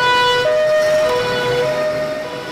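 A loud siren wails continuously, its pitch stepping between high and low tones in a steady two-tone pattern, with faint traffic rumble beneath.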